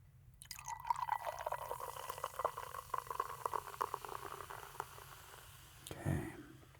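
Sierra Nevada Cold Torpedo cold IPA poured from a can or bottle into a glass, a steady close gurgling, fizzing stream lasting several seconds that tapers off, followed by a short deeper glug at the end, no talking.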